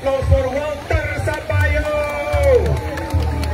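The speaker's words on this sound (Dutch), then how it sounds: "een warm applaus, een speciaal applaus voor Walter" Crowd at a finish line of a running event cheers and whoops with scattered clapping, a lively outdoor hubbub with voices shouting over the din throughout.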